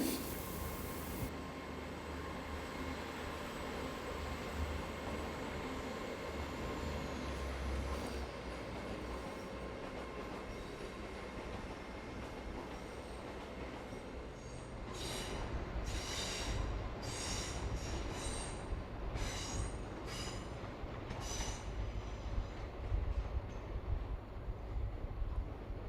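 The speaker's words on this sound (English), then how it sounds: "This GWR Hitachi Class 802 is departing from platform 6, heading to London Paddington." A GWR Hitachi Class 802 train pulls away from platform 6 at Plymouth station, its steady traction hum building slowly. Rhythmic wheel clicks and faint squeals join in the second half as it gathers pace at a moderate distance.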